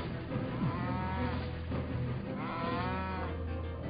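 Cattle mooing, with two long, low, drawn-out calls close by over a steady background hum.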